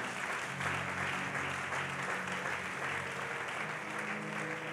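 A church congregation applauds loudly and steadily throughout, a dense wash of clapping from a large crowd with no break and no talk over it.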